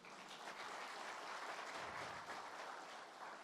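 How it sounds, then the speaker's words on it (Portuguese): A group applauds a participant during a training talk, a continuous, even wash of clapping heard at a distance and fairly faint, with no break. "Salva de palmas para ele, gente."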